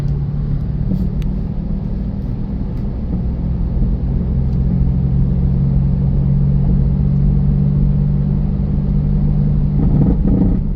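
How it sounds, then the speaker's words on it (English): A 2013 Jeep Patriot with worn struts drives over rough road. The cabin fills with a loud, steady low rumble, with a few brief knocks and rattles, the strongest near the end. "I don't know if you just heard that kind of rattling as I went over a rough spot."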